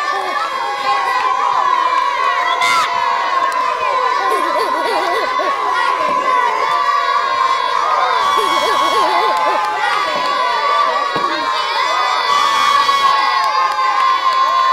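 Schoolchildren on a dairy farm field trip cheer and shout nonstop as teammates shake cream into butter, a dense, high, excited clamor of young voices at steady volume with an adult speaking over it.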